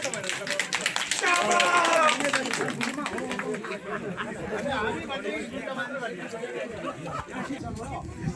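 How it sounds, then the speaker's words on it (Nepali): Applause from an audience at a village gathering in Kalo Gaun, sustained broadband clapping that peaks early and carries on under crowd chatter and talk throughout. "ताली लाग्छ ल"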